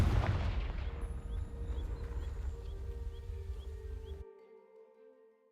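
A Confringo fire spell in Hogwarts Legacy bursts into dry vines with a loud crackling roar and low rumbling that burns steadily for about four seconds, then cuts off and leaves a faint fading tone.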